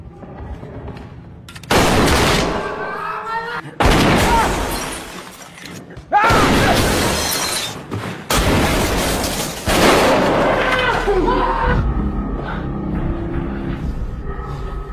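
Gunfire in an action film fight scene, several loud bursts of shots and impacts, some sharp and some booming, broken by short quiet gaps and mixed with low rumbling.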